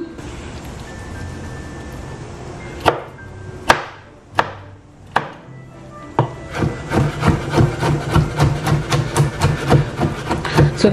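Knife chopping green jackfruit finely on a wooden board: a few separate heavy chops, then a fast steady run of close, loud rhythmic cuts.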